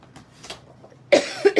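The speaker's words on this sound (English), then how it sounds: "every time I talk, I start to cough" Two short coughs burst out close and loud after a stretch of quiet, low murmuring, from someone working at a papercraft table making greeting cards.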